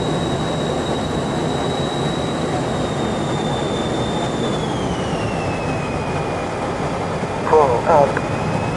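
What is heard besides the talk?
aircraft doing vertical takeoff at airshow practice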